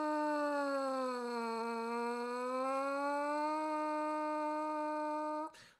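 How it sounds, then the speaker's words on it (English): A brass mouthpiece is buzzed on a single long tone that swoops lower and climbs back up, sustained and close for about five seconds before cutting off sharply. "we're pushing the air through the mouthpiece to make that note dip down lower"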